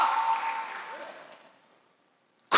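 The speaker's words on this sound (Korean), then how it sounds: "빨리 박수 하세요" Applause from a church congregation at a Sunday worship service, a dense clapping wash that fades away into silence, followed by a sudden loud burst of sound at the very end.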